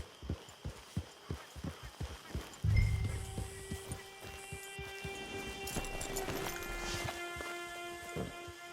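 Horse hooves clip-clop in a steady rhythm in Red Dead Redemption 2, then a horse neighs and the hoofbeats fade under a layered ambient background.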